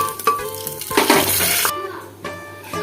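Cumin, nigella seeds, dried red chilli and bay leaves crackle and sizzle in hot oil in a pressure cooker, with sharp spitting bursts and a clink of utensil against the pot.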